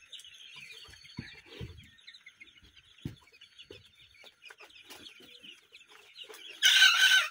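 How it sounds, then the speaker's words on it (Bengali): Month-old Fayoumi rooster chicks give short, scratchy calls and clucks in scattered bursts, fairly close by. A loud rustling burst near the end drowns out the calls. "দেখছেন কীভাবে ডাকে, প্রতিটা মোরগের বাচ্চাই আপনার এভাবে করে ডাকে।"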